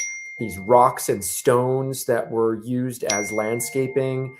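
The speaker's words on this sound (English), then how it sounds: "You may hear my phone blowing up right now." Bright electronic phone notification dings recur briefly, a steady high tone running beneath, mostly masked by a person talking continuously near the mic at an outdoor site with makeshift tents and chain-link fencing.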